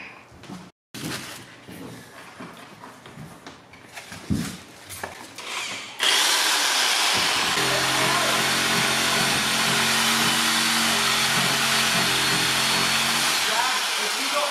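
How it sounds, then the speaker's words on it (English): A reciprocating saw cuts during a house renovation, a loud sustained buzzing rasp starting partway through after scattered handling noises and people talking, then running continuously to the end. "Go get that big reciprocating saw."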